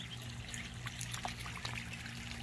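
Water trickles and splashes softly and steadily, a faint, close, continuous burble with small droplet spatters and a low hum underneath.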